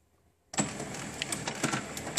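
Samsung CLX-3175FNK color laser printer warming up after a toner waste part is reinstalled: it starts abruptly after a brief silence, then keeps up a close mechanical whir with irregular clicks and rattles.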